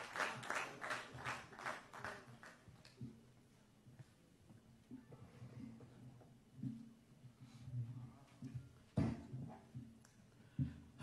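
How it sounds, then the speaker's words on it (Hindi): Applause from a Haryana awards felicitation audience greeting a dignitary on stage, a burst of clapping in the opening seconds that fades into a murmuring hall with indistinct voices. "जोरदार तालियों से उनका हम स्वागत करें"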